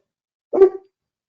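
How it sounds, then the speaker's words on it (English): A single short dog bark, close and clear, standing alone against silence. "Sorry for the dog barking."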